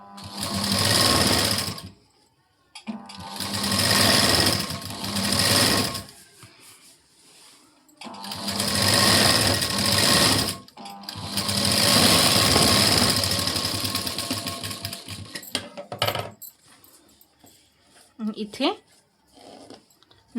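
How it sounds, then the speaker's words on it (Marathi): An electric sewing machine runs a double line of stitching along a blouse seam. It whirs in four close, loud bursts of a few seconds each, separated by short pauses. "आता एक डबल शिलाई देऊन घ्यायची"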